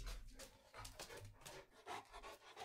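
A dog pants close by in quick, rhythmic breathy bursts that keep going throughout, with some soft rubbing noise mixed in.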